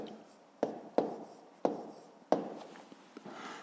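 A pen scratches out a math answer on paper in a few short, close strokes, each starting with a sharp tap that fades into soft scraping.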